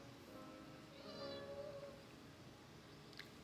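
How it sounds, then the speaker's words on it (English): A cat meows once, a short, faint cry heard over quiet indoor room noise, with no one talking. "kitty cat."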